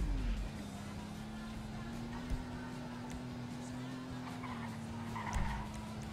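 A car in GTA Online driving erratically, engine droning steadily at a constant pitch with occasional tire skids and bumps, moderately loud with faint background sounds.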